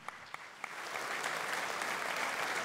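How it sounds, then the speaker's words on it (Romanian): Audience applause builds and then holds steady as a large choir of more than fifty singers, the Zestrea Branului ensemble, arranges itself on stage at a Christmas carol concert in Mediaș. The clapping is dense and sustained, and no voices rise above it. "de ce nu să-i primim în aplauze?"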